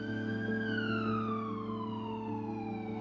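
An ambulance siren wails loudly and steadily close by, its pitch gliding slowly downward as it speeds along a road, sounding alone without any voices.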